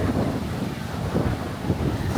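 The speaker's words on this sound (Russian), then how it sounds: "Какие тут волны." Ocean waves roll onto a beach strewn with washed-up seaweed, a steady broadband wash of surf blended with heavy wind rumble on the microphone throughout.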